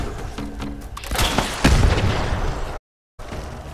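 A grenade blasts in a first-person video game, a loud close boom with a rumbling tail and scattered crackle and debris, then a sudden cut to silence before the game sound returns.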